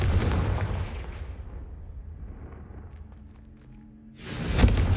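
A fiery Confringo spell explodes in the game Hogwarts Legacy, a heavy booming blast that fades into a low rumble before a second loud burst erupts near the end.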